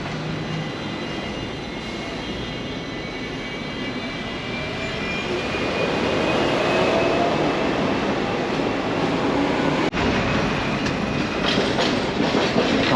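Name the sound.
Hong Kong tram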